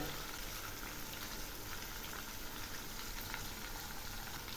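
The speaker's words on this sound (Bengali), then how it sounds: "মশলাগুলো আর একটু কষাবো" A spice masala with whisked yogurt and cashew paste being cooked down in a kadai for a bitter gourd dish gives a steady, soft, even sizzle throughout, fairly faint and without talk.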